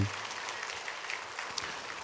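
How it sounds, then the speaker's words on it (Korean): A church congregation applauds the choir during a Sunday service, a fairly faint, even patter of clapping across the room with no voices over it. "우리 성가대들 우리 감사 박수 한번 하겠습니다."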